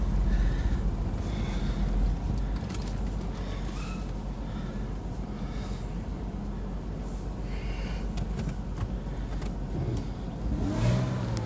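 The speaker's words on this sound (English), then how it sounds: "Hopefully you can hear the engine." A car engine still cold from a cold start runs steadily while the car drives, a continuous low rumble with some revving rising and falling throughout, fairly loud and without any talking.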